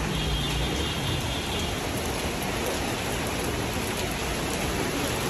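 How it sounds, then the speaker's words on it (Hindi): Heavy rain pours down steadily in Islamabad, a dense, even hiss of downpour that stays loud and unbroken throughout with no voices. "लेकिन इसके बाद बहुत ही सख्त बारिश शुरू हो गई, बहुत ही तेज़ बारिश शुरू हो गई"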